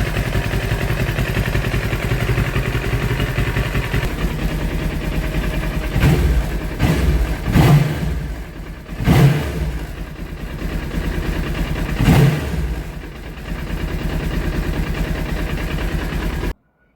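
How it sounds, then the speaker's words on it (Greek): A CFMoto 700 motorcycle engine, started using a car battery, runs at a steady idle with a low, continuous rumble, broken by a few louder revving bursts midway before settling back. "και το βάλαμε το μηχανάκι μπρος"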